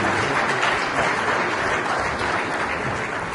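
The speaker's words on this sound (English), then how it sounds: "A round of applause for Her Excellency." Conference audience at a Nigerian family planning gathering gives sustained applause, loud and dense clapping from a large crowd that holds evenly throughout.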